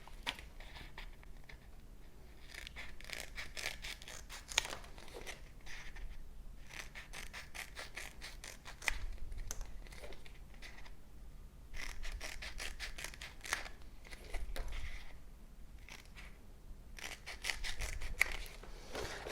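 Scissors snipping through hook-side velcro strip for a wrist-hand orthosis, faint dry crunching cuts in several separate bursts of quick repeated snips with quiet pauses between.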